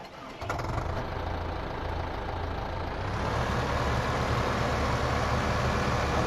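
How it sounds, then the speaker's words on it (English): A tractor engine in the video game Farm Simulator 15 on Xbox One turns over and settles into a steady, droning idle that stays level and close throughout. "I'll bring my tractor over and sell"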